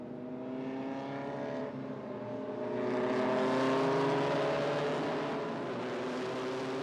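Formula 1600 open-wheel race cars run behind a safety car on a circuit at the Indian National Racing Championship, a steady, layered engine drone with rising and falling harmonic whines as several cars weave and pass, loud and continuous throughout.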